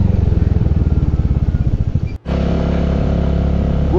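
Motorcycle engine labouring up a steep off-road hill in Sikkim, loud and close, with a fast throbbing rhythm that briefly cuts out before settling into a steady, smoother drone.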